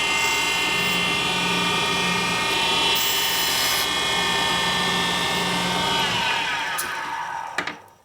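A diamond dresser rubs against the grinding stone of a valve grinder while the Sportster head is being rebuilt. The grind is loud, continuous and high-pitched, with a steady motor whine, and it winds down at the end.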